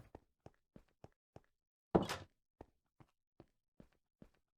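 A door in a Minecraft TARDIS mod swings with one brief whooshing thud, set between evenly spaced soft game footsteps, all quiet and without any talking.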